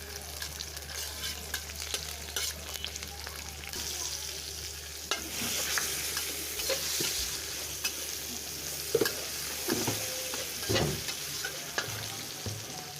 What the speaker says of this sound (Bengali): পেঁয়াজ রসুন মরিচ ভাজা শেষ